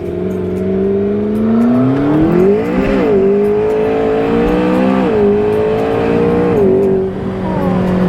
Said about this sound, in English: that is like especially volcano exhaust, ludicrously loud, flame shooting straight up